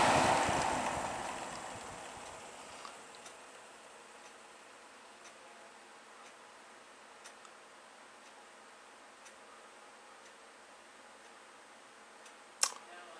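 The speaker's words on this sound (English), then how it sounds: "let's turn it off and see what the spin down time is" A Breezeway MBF-907 9-inch box fan winding down after being switched off: a fading whoosh of air that trails into a quiet hum, with faint ticks and a sharp click near the end.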